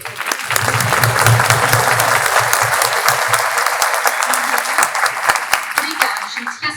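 Audience applause at a panel on mental health, harassment and workplace violence, a dense sustained clapping from a sizeable crowd throughout, with a few voices faintly beneath it toward the end.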